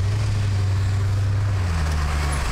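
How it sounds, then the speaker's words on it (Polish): A late-1980s Chevrolet Corvette V8 engine running, giving a steady, deep low rumble that holds evenly without revving, with no talking over it. "ten dźwięk silnika V8 to jest coś,"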